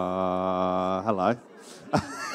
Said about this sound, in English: Just clearing my throat.